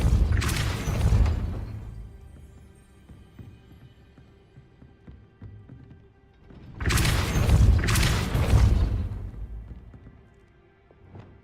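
Spell impacts in the Hogwarts Legacy video game, two loud bursts of booming, crashing force, each with a rumbling tail, separated by several seconds of quieter ambient game sound.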